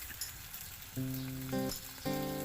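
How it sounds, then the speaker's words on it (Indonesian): Milkfish with yellow spice paste sizzles as it grills wrapped in banana leaf, a steady hiss overlaid by sustained tonal hums that start and stop in short bursts. "Nah, ini ikannya sedang kita panggang, kita tunggu sampai masak."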